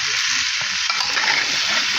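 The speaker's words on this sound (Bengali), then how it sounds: "আর এই যে এখানে ভাজা হচ্ছে পুরি" Puris deep frying in a large pan of oil beside cooks rolling dough, giving a loud, continuous close-up sizzle with faint stirring and no voices.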